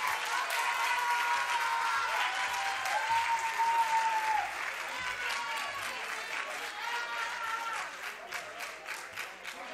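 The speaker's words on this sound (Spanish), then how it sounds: "un aplauso para los dos equipos que lo han hecho fenomenal" Applause for both teams at a FIRST LEGO League robot game, sustained crowd clapping that fills the hall and tapers off slowly, with a voice over a public address system heard faintly beneath it.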